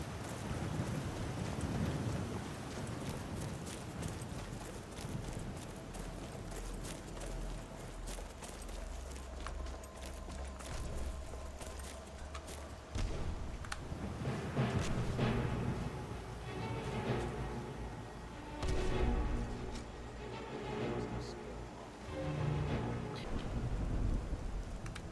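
Rain falls across an outdoor landscape in the video game Skyrim, a steady wash of hiss lasting the whole stretch, joined by low rumbles and scattered louder bursts partway through, with no talking.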